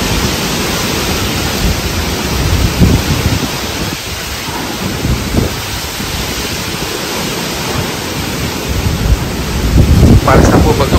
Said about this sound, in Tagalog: Grabe lakas na hangin ah.